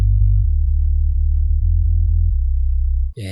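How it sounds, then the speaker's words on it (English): Low-passed sub bass synth from a progressive house production, a deep sustained low tone shifting pitch through a short note pattern, alone and steady before cutting off near the end. "As you can hear, I remove all the high frequency and it sounds like this."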